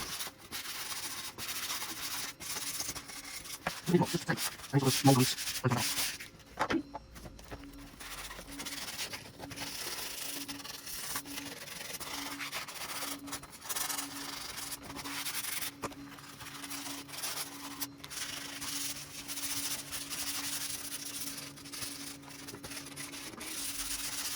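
Sandpaper rubbing by hand on the fuselage of a Multiplex EasyGlider 4 model glider, steady close-up scratchy strokes with a few sharper bursts early on and no talking.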